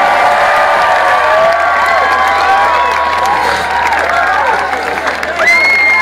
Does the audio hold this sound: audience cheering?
yes